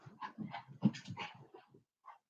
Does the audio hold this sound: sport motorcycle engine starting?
no